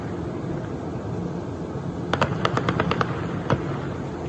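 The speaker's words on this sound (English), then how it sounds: "You can hear the gunfire." Gunfire during street fighting in Rio's favelas, with a quick run of sharp cracks and one later shot, distant and faint over a steady wind-like hiss.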